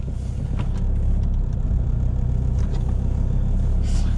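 Diesel Mercedes OM605 engine with a T04E turbo in a snow drift car, running steadily with a loud, unmuffled exhaust droning low and continuous, close by and with no talking over it.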